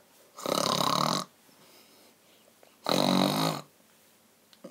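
Two long, loud rasping snores a couple of seconds apart, close and harsh, with quiet breathing between them.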